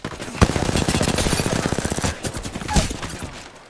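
Sustained automatic gunfire in Apex Legends rattles in a fast, steady stream, loud and near, with a couple of heavier impacts punctuating the burst and no talking over it.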